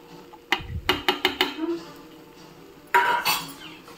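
Grated coconut being mixed into prawn sukka in a pan, with a series of sharp metal spoon clatters against the pan, a quiet pause, then a couple more scraping knocks.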